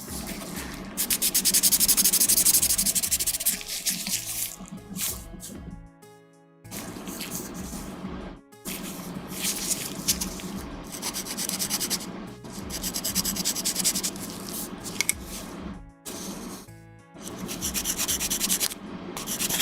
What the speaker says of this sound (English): Basically need to sand until the surface area is gone.